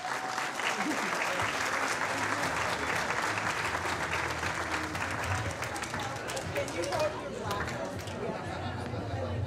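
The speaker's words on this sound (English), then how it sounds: "Let's get a big round of applause for Cesar, the best." Wedding guests give a sustained round of applause after a best man speech, dense steady clapping with crowd chatter and a few cheers mixed in, filling the room throughout.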